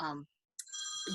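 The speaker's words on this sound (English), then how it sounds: "That was my phone." A mobile phone rings briefly with a bright electronic ringtone during a radio show interview, heard alone between bits of speech.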